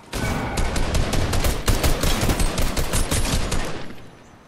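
Gunfire in a video game, a dense, loud burst of rapid overlapping shots rattling for about four seconds before cutting off and fading.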